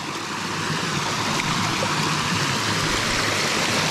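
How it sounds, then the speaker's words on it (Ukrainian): A mountain waterfall in the Carpathians roars as a steady, dense rush of water, loud and close throughout. No one speaks. "Я бачив на карті, що тут є якийсь водоспад, але що він саме настільки приємний."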